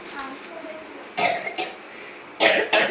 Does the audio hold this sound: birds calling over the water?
no